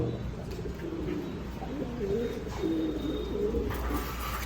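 Fancy pigeons coo in soft repeated phrases against a steady low background hum, close by and moderately loud, with faint outdoor noise and occasional light chirps.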